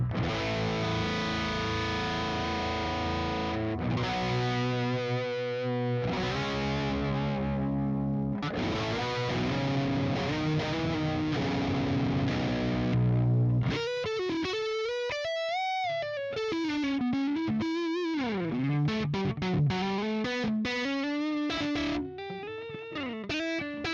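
Heavily distorted electric guitar through a Quad Cortex capture of a modded Marshall amp, starting with sustained, crunchy chords, then moving into fast, bending lead lines with vibrato, loud and close with no speech.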